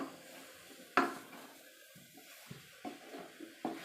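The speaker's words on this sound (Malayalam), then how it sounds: "ജസ്റ്റ് ഒന്ന് ഇളക്കി കൊടുക്കാം കേട്ടോ" Metal utensil clinks and scrapes against a pressure cooker, a sharp knock followed by softer irregular stirring of potato curry, close and fairly quiet.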